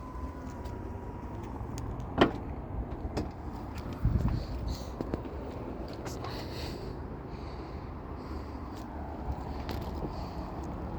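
The power liftgate of a 2022 Subaru Outback Onyx XT closing after a button press, a soft steady motor whir with a couple of mechanical clunks as the gate latches.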